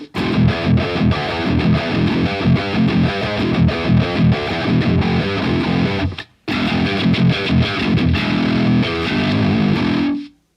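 Heavily distorted electric guitar chugs out a driving riff, loud and continuous, cutting off abruptly once before resuming and ringing out at the end.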